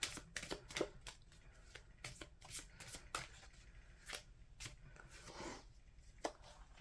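Animal advice cards shuffled for a single draw, a quiet run of soft papery flicks and taps in irregular rhythm, close but faint with no voice.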